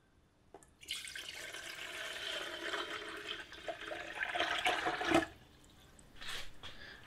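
Water poured into a cold billy pot on an induction stove, a rushing splashing stream for several seconds that swells, cuts off sharply, then returns briefly, close and moderately loud.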